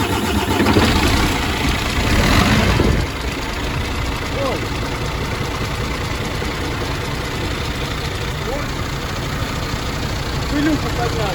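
A newly installed engine cranks and catches for its first start, a loud roar for about three seconds before settling into a steady, close idle that holds to the end.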